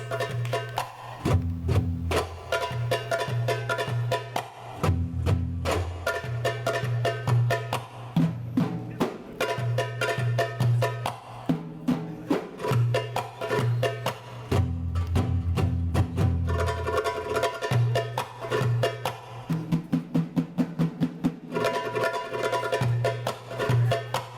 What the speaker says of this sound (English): In the Western countries, it is called also darbuka, and it sounds like this